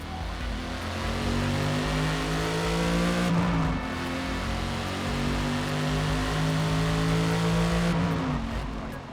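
Audi S4 with its stock exhaust revving hard in the Forza Motorsport racing game, a loud steady engine drone climbing in pitch, briefly dropping as it shifts around the midpoint and again near the end, with no talking.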